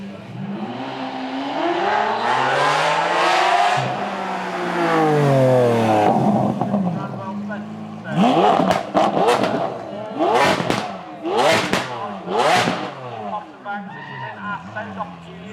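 A 770 horsepower supercar accelerates hard on a race track at a supercar weekend, its engine rising through rapid upshifts and loud revving sweeps, with a commentator talking over it.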